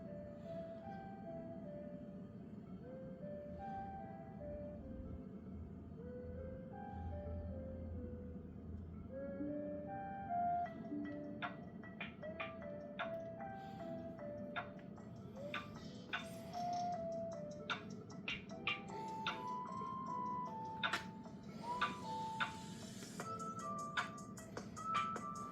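Music plays through the small built-in speakers of an ASUS Vivobook 14 laptop (2023, F1404ZA), heard faintly at a distance with a thin, tinkling melody of plucked, chime-like notes over a soft hum.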